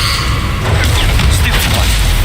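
Spell effects burst in Hogwarts Legacy as Incendio fire is cast, a loud close whoosh and boom with crackling, mechanical impacts over a low rumble, with a voice shouting briefly.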